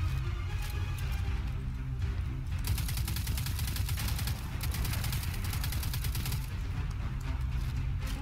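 Rapid automatic gunfire in Destiny 2, a steady rattling stream of shots over a dense, rumbling game soundscape, loud and continuous throughout with brief lulls, no talking.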